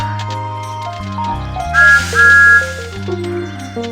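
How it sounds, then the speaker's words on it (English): A Thomas the Tank Engine toy steam train whistle from a 2001 video game sounds in two bright, sustained toots over a busy, bouncy background melody, loud and close. "This is Thomas's whistle."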